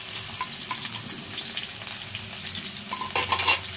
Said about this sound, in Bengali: এদিকে আলু ভাজা হচ্ছে